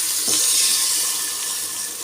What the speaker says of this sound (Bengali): মাছটা আমি সামান্য একটু পানি বেশি দিব না